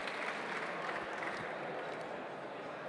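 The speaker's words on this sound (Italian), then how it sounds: "Grazie, un grande applauso ancora." An audience at a hackathon awards ceremony keeps up a steady round of fairly distant applause, with a murmur of crowd voices underneath.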